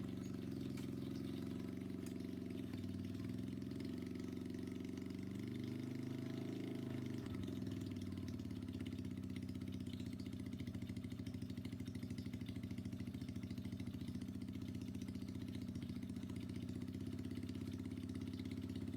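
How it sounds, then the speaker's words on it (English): A small moped engine idles steadily nearby, a continuous low putter with a slight wobble early on, no voices. "the engine sounds so much better now"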